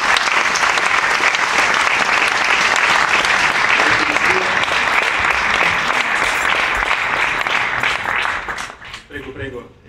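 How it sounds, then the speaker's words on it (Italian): An audience in a debate hall gives loud, sustained applause to welcome speakers to the stage, dense clapping that holds steady before tapering off near the end as a voice begins. "vi prego di accoglierli con un applauso"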